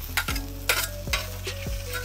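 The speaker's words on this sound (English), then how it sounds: "Avocado oil, we're gonna throw this rice on here." Day-old cooked rice is tossed onto a hot pan with avocado oil, making a close sizzle broken by quick scraping stirs with a utensil, about four strokes in two seconds.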